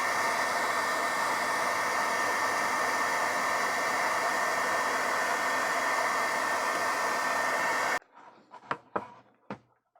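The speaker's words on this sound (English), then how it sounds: "I'm going to use a hairdryer to do that because I don't want to damage the label." Hairdryer blowing to heat and loosen the label on an Atari 7800 game cartridge, a steady loud whooshing roar for about eight seconds that cuts off abruptly, followed by a few faint handling clicks.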